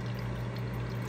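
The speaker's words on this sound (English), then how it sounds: "now a steady stream of water" A steady stream of water runs from a solar-powered dehumidifier used for water harvesting during a drought, pouring continuously and close over a low, constant hum.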